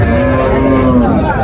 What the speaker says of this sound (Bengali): এই যে একটা গাবি আছে